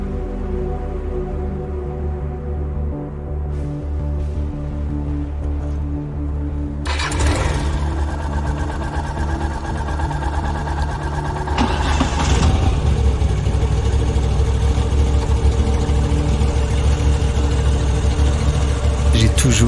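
Car driving along a road at night in Alsace, with a steady engine hum and tyre rumble that grows louder and fuller about halfway through as the car picks up speed.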